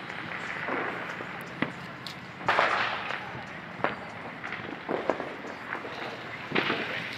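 Diwali firecrackers bursting in a series of sharp, scattered cracks and bangs, some near and some farther off, over a steady background hum of festival noise.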